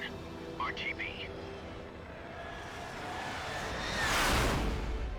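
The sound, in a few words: MiG jet aircraft flying, from video game Metal Gear Solid 3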